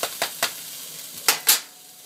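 Crêpe cooking in a hot pan, a soft continuous sizzle broken by a handful of sharp scraping clicks of a fork against the pan, close.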